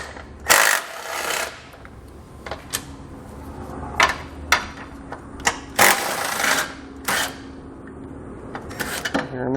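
A socket wrench pulls 18 mm bolts from the hitch area of a 2020 Nissan Rogue. Sharp metallic clicks and ratcheting bursts are spaced irregularly over a low background hum, close and fairly loud.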